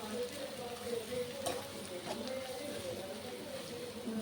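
Ginger garlic paste fries in a pan while being stirred, a steady close sizzle with soft scraping strokes and occasional clinks, making potato masala.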